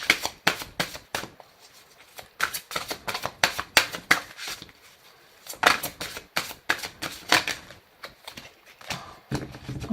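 Tarot cards being shuffled and cut by hand, a run of quick papery riffles and flicks with short pauses between bursts, close and fairly loud, with no talking.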